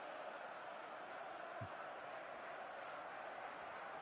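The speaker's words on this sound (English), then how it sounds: "The applause was going round Fir Park there for young Zach Gooden." A football crowd at Fir Park applauds during Motherwell against Rangers, heard as a steady, distant wash of clapping and crowd noise that holds at a constant low level throughout.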